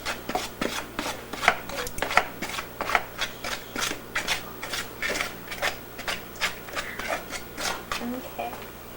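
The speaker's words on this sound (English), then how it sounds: "now the margarine has to be cut in so the mixture resembles fine crumbs." Margarine being cut into a flour mixture with a utensil, a rhythmic series of crisp chopping strokes against a bowl, steady and close, repeating through the whole stretch while someone talks in the background.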